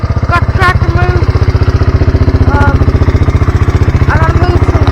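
A tractor engine runs steadily up close, its rhythmic low chugging throbbing without a break, with a voice speaking briefly over it.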